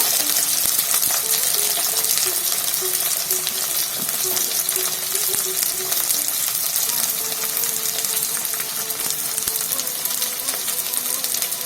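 Cut ivy gourd (dondakaya) pieces frying in a pan, a loud, continuous close sizzle with occasional stirring clinks and a faint hum underneath, no voices.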